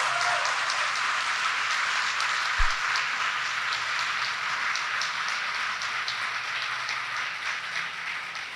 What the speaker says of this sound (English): let's give our incredible governor a round of applause